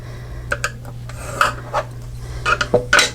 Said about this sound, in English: we're gonna score this at a 1/2 inch on each side